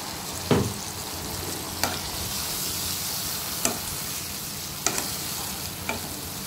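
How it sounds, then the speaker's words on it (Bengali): Pointed gourd (patol) being sautéed in a pan for a vegetarian curry: a loud, steady sizzle throughout, punctuated by a handful of sharp spoon knocks and scrapes at irregular intervals, close and without talk. "পটলটা দিয়ে আমি একটু ভালো করে কষে নেব"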